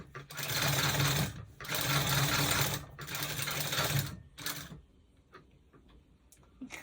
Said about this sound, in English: So we're gonna come and we're gonna sew that down.